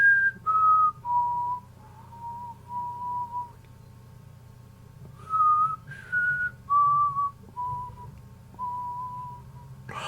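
A person whistles a melodic phrase from Jean Michel Jarre's Oxygene alone, clear, close notes stepping downward in two short passages separated by a quiet pause.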